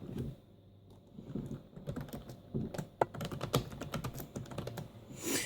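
Keys clatter on a Toshiba T1910 laptop keyboard, a close, quiet run of irregular clicks and taps with brief pauses between bursts of typing.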